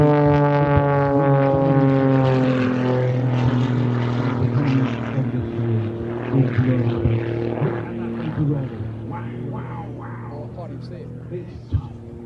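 An aerobatic propeller airplane drones with a steady harmonic engine tone that gradually changes pitch as it maneuvers, with faint voices underneath.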